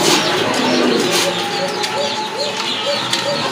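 A pair of black-laced satin pigeons, a sought-after breed offered for sale, coo steadily in close, continuous low murmurs over a busy background with other birds chirping faintly.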